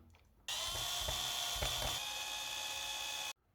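A power screwdriver drives screws into the metal rear axle assembly and drive shaft of a WPL D32 RC truck, one steady high whirring run of about three seconds, close and alone.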